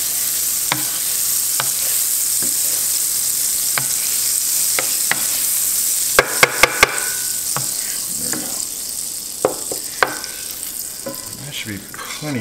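Butter sizzling steadily in a Stargazer 12-inch cast iron skillet, a continuous close hiss with a few sharp clicks and taps of utensils against the pan.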